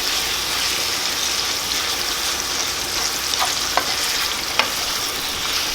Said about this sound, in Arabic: انا بقلي اللحمه لوقت ما ينسلق معي السبانخ